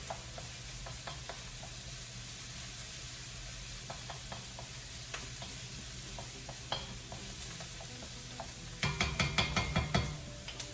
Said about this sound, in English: you saute them until they like transparent